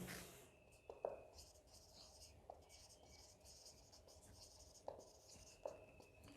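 Pen or marker writing on a board during a physics lecture, soft scratchy strokes with a few sharper taps, quiet and intermittent, while a voice speaks faintly in the background.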